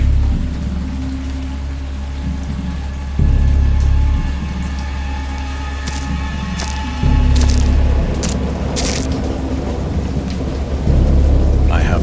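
Thunderstorm with heavy rain in the video game Dagon: steady, loud downpour with deep rolling thunder swelling several times, close and enveloping throughout.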